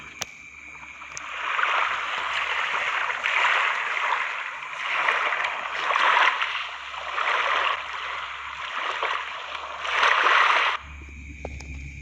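Broad rushing water swells and recedes in repeated surges, steady and fairly loud, with a low rumble underneath and a brief quieter tail at the end.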